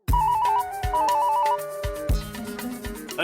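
A phone ringtone plays while a call is being placed in a Taarak Mehta Ka Ooltah Chashmah comedy scene, with a repeating melodic tone pattern and a thumping musical backing that stays loud throughout.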